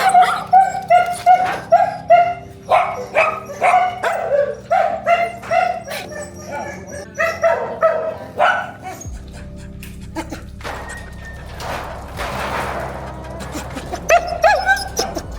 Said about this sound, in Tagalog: Pakita ko sa inyo yung mga aso.